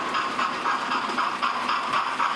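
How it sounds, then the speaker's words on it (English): A Hornby Merchant Navy class model locomotive runs on its track with a continuous close whirring hum and a light rhythmic clicking of wheels over rail joints. "I've also got that locomotive running around"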